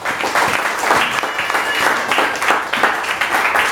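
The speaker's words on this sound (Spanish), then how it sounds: "Denle las palmas a Dios porque Él es el que merece." A church congregation at a thanksgiving service clapping together in praise, a dense, loud and sustained wash of hands that continues steadily throughout.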